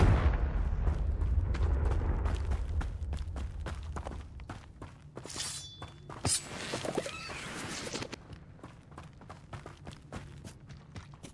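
Confringo fire spell blasts in the video game Hogwarts Legacy, a series of booming explosive bursts and crackling impacts over rumbling game sound, with rapid sharp hits and fiery whooshes mid-sequence.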